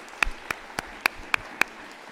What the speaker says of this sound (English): let's give one clap to Professor Mukonya